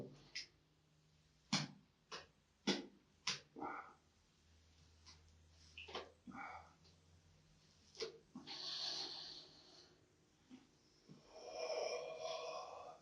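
Someone puffs on tobacco, drawing several short, sharp puffs in a quick series, then a stronger pull and slower, breathy exhales of smoke through the nose, close and quiet with no talk.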